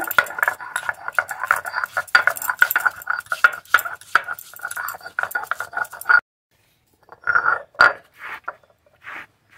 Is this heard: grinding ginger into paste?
yes